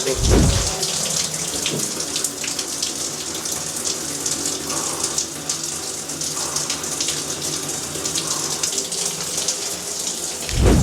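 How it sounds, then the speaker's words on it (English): Cold shower water pours steadily through a bag of ice, a loud, close, continuous rushing spray with splashing, heard alone without talk. "we're gonna turn on the cold water and that's gonna come through the ice and hopefully make the shower colder"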